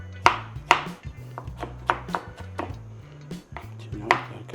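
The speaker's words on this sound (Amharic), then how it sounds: "ቲማቲም መክተፍ ነው።" A knife chops tomatoes on a cutting board while making macaroni, giving about nine sharp, close knocks in an uneven rhythm over a few seconds, with a low background hum.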